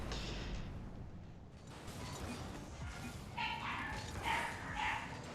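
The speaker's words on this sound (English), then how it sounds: "My dog's going absolutely bonkers. Can you hear them?" Small Chihuahua dogs bark in repeated sharp yips, fairly close and excited, mixed with creaky mechanical noise and a faint voice in the background.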